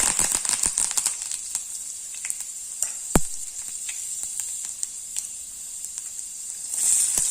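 Curry leaves hit hot oil in a pan already holding mustard seeds and cumin, giving a loud, steady spitting sizzle with scattered sharp crackles and pops throughout, and no voices.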